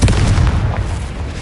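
A Confringo fire-blast spell in the Hogwarts Legacy video game erupts as a loud, booming explosion with a heavy low rumble that rolls on and slowly fades over a second and a half, with no voices.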